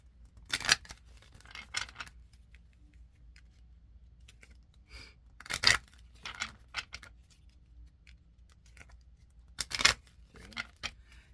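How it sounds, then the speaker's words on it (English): Three separate bursts of quick riffling card shuffles, spaced several seconds apart, in a quiet room with faint handling noises between them. "I'm shuffling the other half real quick"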